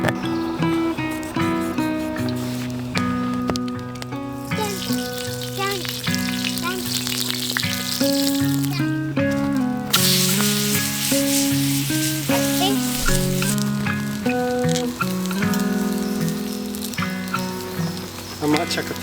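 Fish and sausages sizzle in a pan on a camp stove, a steady crackling fry that runs throughout beneath a prominent layer of tonal music.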